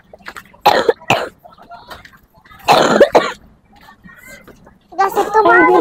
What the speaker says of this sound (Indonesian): Kita lagi batuk.